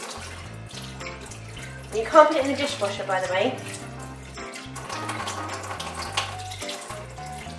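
A tap runs steadily as a NutriBullet blender cup is rinsed beneath it, water splashing and gurgling, while a person talks over the sound.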